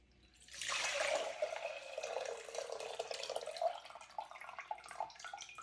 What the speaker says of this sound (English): So we're just gonna dump out that cloudy water.